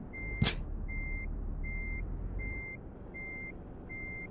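Truck reversing alarm in Euro Truck Simulator 2 game, a steady series of six evenly spaced electronic beeps over low engine rumble, with a brief hiss near the start.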